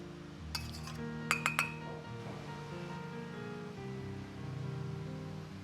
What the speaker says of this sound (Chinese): 然后用勺子搅拌均匀即可